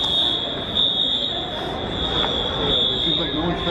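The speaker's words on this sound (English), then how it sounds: "So there's a fire alarm going off in IKEA," A fire alarm sounds inside a large IKEA store as a steady, piercing high electronic tone running throughout, with crowd murmur and speech under it.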